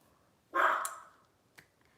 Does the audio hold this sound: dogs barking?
yes